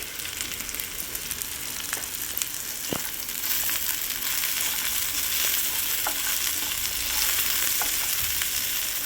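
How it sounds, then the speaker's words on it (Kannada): Cashews frying in oil in a pan for butter chicken, a steady crackling sizzle with occasional stirring scrapes, close and continuous, growing slightly louder, with no talking. "ಫ್ರೈ ಮಾಡ್ತಾ ಇದ್ದೀನಿ ನಾನು"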